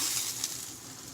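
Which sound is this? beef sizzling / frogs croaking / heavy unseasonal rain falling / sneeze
beef sizzling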